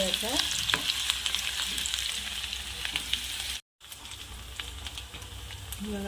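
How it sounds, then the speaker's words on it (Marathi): Onions fry until brown in a pan for sabudana usal, a steady crackling sizzle with frequent stirring scrapes and a brief gap of silence midway; no voices. "कांदा ॲड करू कांद्याला छान कलर येईपर्यंत ब्राऊन कलर येईपर्यंत होऊ"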